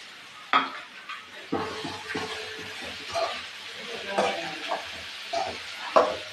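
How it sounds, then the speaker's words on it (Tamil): Tomatoes and capsicum fry in a pot for chicken kulambu, giving a soft sizzle broken by repeated scraping stirs and light clinks of a spoon against the pan. "இப்போ தக்காளி குடமிளகாய் எடுத்து அதில் போட்டுக்கலாம்."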